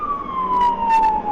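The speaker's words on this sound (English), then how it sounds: "Now he kicks on his siren." A police car siren wails during a pursuit, a loud steady tone sliding slowly downward, with engine noise underneath.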